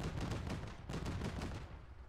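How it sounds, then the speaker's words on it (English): Rapid gunfire in a video game set in sewers and mountains comes as a fast string of muffled bursts, fairly faint and alone, fading off at the end. "I don't know what the fuck you're shooting at."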